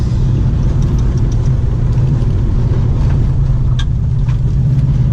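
A stock 2012 Subaru WRX STI runs along a technical dirt road, its engine a loud, steady mid-range drone over continuous low rumble and gravel-and-road noise, with a few faint ticks and clicks near the end.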